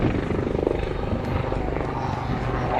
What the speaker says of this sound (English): now he's doing a turn and he's going to hold it there and let the entire helicopter just slide down on its side